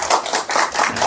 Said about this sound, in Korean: 뜨거운 감사의 박수